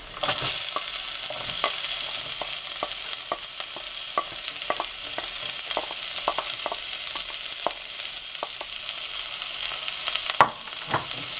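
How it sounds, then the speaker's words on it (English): Onions go into a pan where garlic and ginger are already sautéing for restaurant-style paneer tikka masala, giving a steady close sizzle. Regular scraping and stirring clicks from a utensil cut through it, and no one speaks. "The garlic and ginger is almost done now, and we are going to add our onions."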